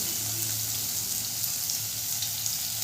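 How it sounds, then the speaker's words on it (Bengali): Chopped onion and garlic hitting hot mustard oil in a pan for a Bengali egg chop, producing a continuous even sizzle and crackle heard up close with no voices. "তেলটা গরম হলে দিয়ে দেবো পেঁয়াজ কুচিটা। এরপরে দিয়ে দেবো রসুন কুচিটা"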